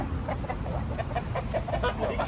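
Clucking from fighting roosters at a cockfighting gathering in Thailand, a steady run of short repeated clucks over a dense, noisy crowd background with no clear speech.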